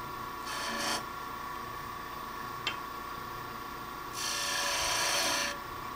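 Hand-held cutting tool undercutting the tenon shoulder of a wooden handle on a lathe, giving two short bursts of rasping scrape over a steady low machine hum, with a sharp tick between them.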